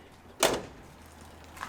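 A truck door pops open after a key-fob press: one sharp, fairly close unlatching thunk with a quick decay, then quiet, and a faint click near the end.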